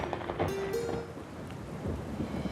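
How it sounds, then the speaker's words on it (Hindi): Rain pours steadily in a forest while thunder rumbles, a dense wash of falling drops with a low rolling boom, loud and continuous with no voices. "जंगल में बारिश होने लगती है"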